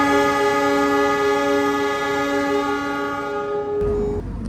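Pandalungan train departing Semarang Tawang station, with a long, loud, steady horn blast holding several tones before cutting off into rumbling rail noise.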